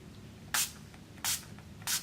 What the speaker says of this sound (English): So I actually like to spray it in the palm of my hand and then apply it.